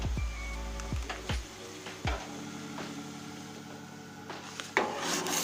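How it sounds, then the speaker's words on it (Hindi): A spoon stirs strawberry jelly powder into boiling water in a pot, scraping and knocking against the metal in a few sharp clinks over a steady low bubbling hiss. "जैसे ही उबलेगा तो इसमें जेली डाल के इसको चम्मच से हिलाती रहूँगी।"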